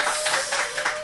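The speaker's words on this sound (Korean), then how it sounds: "우리끼리라도 박수 한번 칠까요?" A small group at a business presentation claps together in a short, dense burst of applause.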